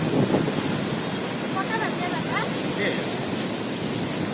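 Sea waves at Digha beach wash in as a steady broadband roar, with wind buffeting the microphone and faint distant voices now and then, near and constant throughout.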